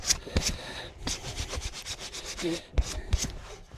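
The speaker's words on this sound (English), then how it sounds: "It might be worth sandpapering it" Sandpaper rubs back and forth over wood on a dog gate, a steady close scratchy rasp in repeated strokes with a few louder knocks near the end.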